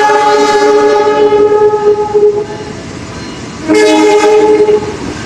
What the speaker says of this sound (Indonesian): jalur 4 masuk kereta api Argo Parahyangan dari stasiun Bandung tujuan lagi stasiun